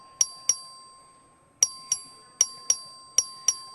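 A voting bell rung by the clerk in the Texas House chamber during a record vote: eight sharp metallic dings in uneven pairs, each ringing briefly and decaying, clear and close over a quiet room.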